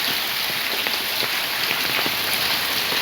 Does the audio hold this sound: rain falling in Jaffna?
yes